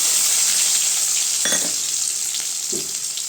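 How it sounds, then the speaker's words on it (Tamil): Sliced onions fry in oil with fenugreek seeds, cumin and dried red chilli for a sambar, a loud, steady sizzle with a couple of short stirring scrapes and clatters partway through. "வெங்காயம் சேர்த்து நல்லா செஞ்சு வச்சுக்கோங்க"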